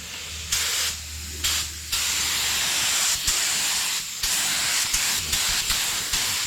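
A spray gun lays clear coat onto Harley-Davidson tins. Loud steady hissing bursts start and stop in several passes, with brief quieter gaps between them and no talk.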